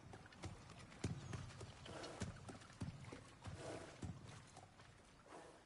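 Horse hooves clip-clop in a steady, close rhythm with soft snorts and shuffling, heard in the God of War Ragnarok video game.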